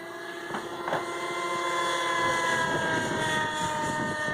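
A Kyosho Cal 30 radio-controlled airplane buzzes through the air on a windy day, its small engine a steady droning whine that swells slightly as it passes, heard alone without talk.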